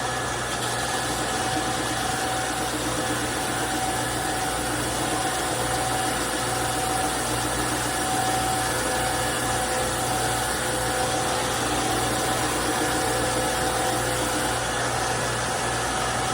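Steady, continuous abrasive hum of sanding on the wooden neck of a mandolin, constant and close, running without pause for the whole stretch with no voices.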